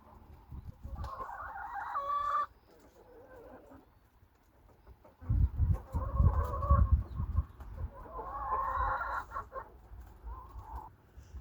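Backyard chickens clucking and calling as they are let out of their coop into a warm yard, with bursts of busy fowl chatter and scuffling, some louder and close, separated by quieter pauses.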